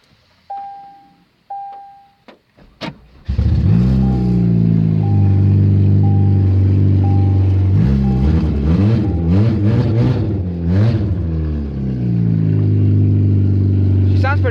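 A 2003 Chevy Cavalier demolition derby car with about 200,000 miles starts up after a few chimes and cranks, then its engine runs loudly, revving up and down repeatedly in a steady rumbling idle.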